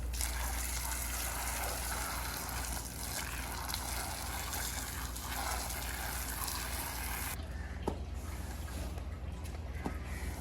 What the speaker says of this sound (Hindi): मैंने साथ ही नल भी चला दिया है, अच्छे से धोते हैं।